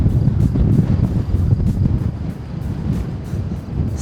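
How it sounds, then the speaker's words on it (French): Strong summer wind on an open upland hiking trail in the Cézallier, just out of the forest, roars and buffets the microphone in continuous heavy gusts, loud and close, with no voices. "Un peu trop de vent pour l'été."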